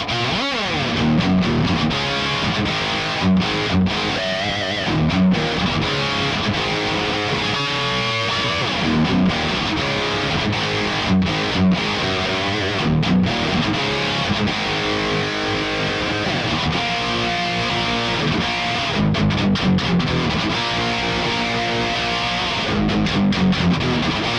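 A Les Paul electric guitar played through the ReValver amp simulator with a heavily distorted tone runs loud and continuous through chugging riffs and sustained notes, with no talking.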